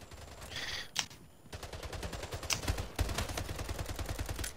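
Rapid automatic gunfire rattles in continuous bursts in the video game Splitgate, dense and steady with a brief break near the start, no speech over it.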